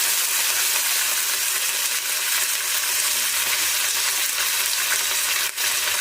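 Tender drumstick leaves frying in a pan, a loud, continuous close sizzle with soft stirring and one brief scrape near the end, no voices.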